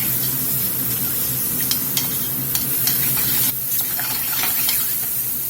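Mushrooms cooking in a skillet sizzle loudly and steadily while being stirred, with scraping clicks of a utensil against the pan and no voices.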